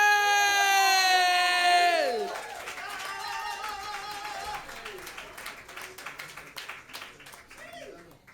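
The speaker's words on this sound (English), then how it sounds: "give a huge round of applause for Woodzy!" Audience applause breaks out at an improvised jazz and spoken word show in London, rising as a sustained music chord fades and continuing as dense, steady clapping with scattered sharp claps.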